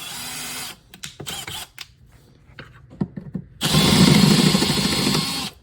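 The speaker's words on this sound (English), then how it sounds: "Take your drill bit, put it right there in that hole in the middle." A power drill bores holes in a fiberglass bass boat hatch, with short scraping handling noises followed by a loud, sustained whir of drilling lasting about two seconds.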